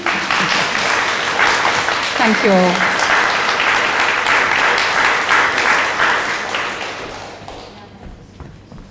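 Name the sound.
audience applause after talk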